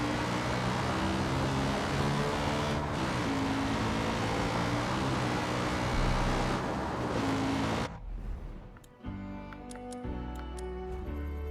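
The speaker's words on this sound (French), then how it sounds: "le bruit du quad il me fait mal à la tête" Quad bike engine drone in Far Cry 5, a steady loud motor hum with ticking layered over it for about eight seconds, then it cuts out and quieter engine and ticking sounds resume.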